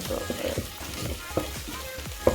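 Meat frying with carrots and garlic in a pan gives a steady close sizzle, broken by soft scraping stirs at irregular moments.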